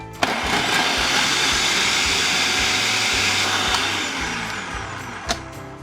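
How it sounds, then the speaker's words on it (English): An electric blender whirs steadily as it purees garlic with lemon juice, a loud close motor whine lasting several seconds with a sharp click at the start and another near the end. "I'm gonna take my garlic and part of my lemon juice and puree this for a couple seconds"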